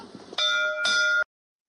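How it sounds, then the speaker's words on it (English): Two clear bell strikes ring out in quick succession, each a bright sustained tone that cuts off abruptly, with faint background noise before the first. "She's there ringing bells, ringing fucking bells and shit like that."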